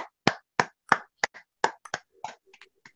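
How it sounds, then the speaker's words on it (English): A few scattered hand claps, about ten sharp, separate slaps spaced unevenly and fading out toward the end, sound close by in a quiet room. "That deserves a round of applause."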